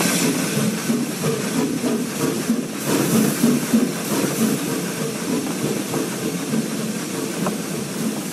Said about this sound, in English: This train is like one of the hardest trains to drive in Train Simulator